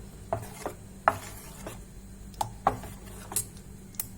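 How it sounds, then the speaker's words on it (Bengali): A spoon or ladle works through a thick appam batter made with rice, giving soft scraping strokes and a few sharp clinks against the bowl at uneven intervals, close and fairly quiet, with no talking. "মিক্সচারটাকে এবারে একটু চামচে বা হাতার সাহায্যে মিক্স করে নিতাম।"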